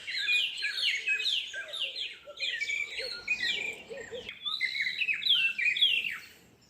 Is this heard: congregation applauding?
no